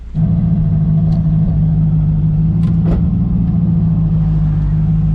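A turbocharged 5.3 LS V8 in a Mustang drag car rumbles loudly and steadily up close, a deep continuous drone with slight surges and no talk over it.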